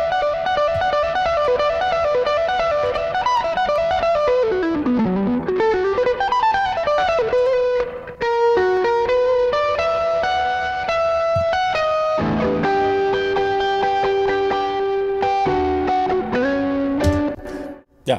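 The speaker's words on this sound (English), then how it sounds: "The guitar sounds great if you add resonance to your reverb, especially in the insert" An electric guitar plays sustained chords and melodic lines through a resonant reverb plugin on the insert, ringing out loud and alone with long atmospheric tails before an abrupt cutoff.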